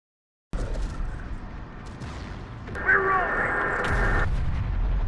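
Artillery fire in the strategy game Terminator: Dark Fate - Defiance, heard as steady low rumbling booms with a sustained tonal effect layered in partway through, continuous and fairly loud after a silent start.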